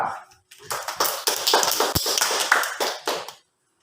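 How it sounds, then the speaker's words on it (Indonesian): Classroom applause for a student group: a burst of many hands clapping in a dense, rapid patter that starts after a brief pause, runs steadily for about three seconds with a few sharper slaps, then stops abruptly into silence. "berarti kita kasih aplaus untuk kelompok 2"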